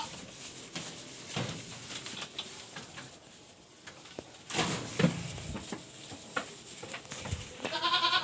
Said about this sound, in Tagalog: Ayan po mga kambing natin.